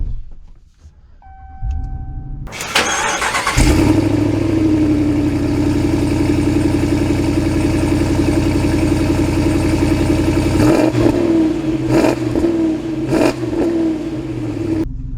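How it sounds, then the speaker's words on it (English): A 2023 Ram HD Rebel pickup with a gas 6.4L Hemi engine starts and pulls away, a loud steady engine drone holding for several seconds before easing off, with a few clunks near the end and no talking. "we are setting off in the gas-powered Rebel"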